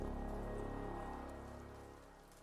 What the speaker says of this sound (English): The rain never let up.